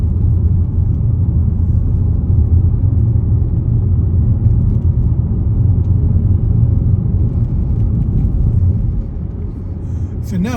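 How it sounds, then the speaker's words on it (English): Car driving on a road during a driving lesson, heard from inside as a steady, loud low rumble of engine and road noise that holds evenly throughout. "as we're going ahead in this lane, Michael, let's center the car so we're in the middle of the lane."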